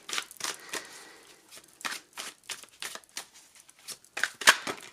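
Tarot cards being shuffled by hand, a series of crisp riffles and papery flutters in short bursts with brief pauses, close and fairly loud.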